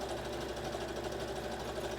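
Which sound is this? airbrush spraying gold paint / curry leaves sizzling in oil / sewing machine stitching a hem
sewing machine stitching a hem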